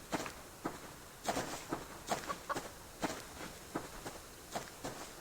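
In a wilderness survival video game, a chicken gives a string of short, sharp clucks at an irregular pace, fairly faint and heard alone without talk.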